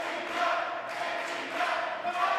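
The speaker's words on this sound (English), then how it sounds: "Crowd cheering for KTDUb." A wrestling event audience keeps up a dense, continuous cheer with a few rising swells, fairly loud and unbroken, with no one speaking over it.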